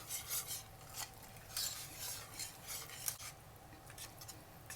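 A seasoned young radish salad with onion being stirred and tossed in a bowl, giving a steady wet rasping and rubbing sound with soft clinks of a utensil, continuous and close.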